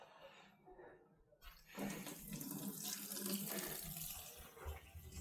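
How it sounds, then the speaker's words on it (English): Water running from a newly fitted tap into a sink, a quiet trickle that swells after about two seconds into a steady gushing flow, close by with no talking. "Right, water's back on."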